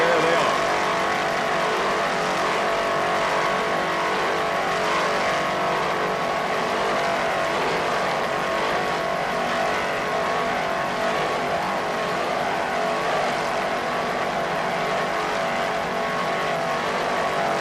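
Offshore powerboats racing, 32-foot race boats, including a Mercury-powered boat at the 1995 Jacksonville Grand Prix, producing a loud, steady engine roar that stays constant throughout with no clear pauses.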